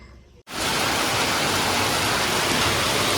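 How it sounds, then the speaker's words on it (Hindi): Steady, dense rain pouring down close by in Dehradun, a continuous broadband hiss that starts abruptly after a brief quieter moment and holds at an even level. "तो दोस्तों देखो देहरादून में बारिश आ चुकी है।"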